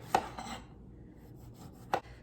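A knife cuts a lime on a cutting board during kitchen prep for baked fish, two crisp separate chops with quiet rubbing between them, close and alone.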